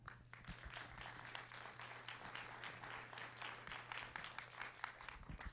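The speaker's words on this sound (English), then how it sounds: "Let's give her a round of applause." An audience at an evening information meeting for a student travel program applauds, steady dense clapping from many hands, heard somewhat distant and fairly faint, with a low hum underneath.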